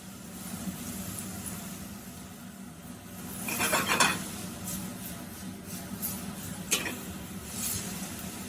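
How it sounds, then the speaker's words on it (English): Onions with salt and pepper caramelizing in a pan, giving a soft, steady sizzle with a few louder stirring and utensil scrapes, close and fairly quiet. "We just want to start to caramelize these onions."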